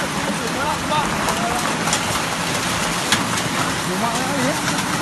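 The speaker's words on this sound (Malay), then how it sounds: "Hujan es. Hujan es tu." Hail falling in Tangse, Aceh, a dense steady patter of hailstones on roofs and surfaces all around, continuous with sharper impacts scattered through, while people talk over it.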